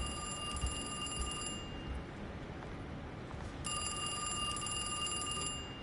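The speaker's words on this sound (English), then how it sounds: "But now the phone's ringing." A telephone rings in the Alone in the Dark video game: two long electronic trilling rings separated by a pause, over a steady background rumble of ambient noise.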